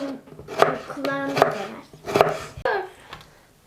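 Knife chopping potatoes on a cutting board for çökertme kebab, heard as a few sharp, close chops spaced out amid kitchen clatter, with people talking over it.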